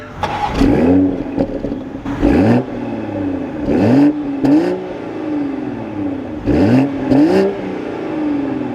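A 2023 Toyota GR Supra with a six-speed manual fires up loud and near, then its engine is revved in several sharp rising and falling blips between steadier idle stretches.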